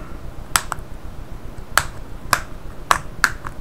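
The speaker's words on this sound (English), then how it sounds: "You can hear the pins snapping, so that is releasing from the body." Retaining pins on an LG G2 phone screen snap loose during a digitizer and LCD replacement, giving five sharp, brief clicks at irregular intervals. They sound close and fairly crisp against quiet background hiss, with no talking.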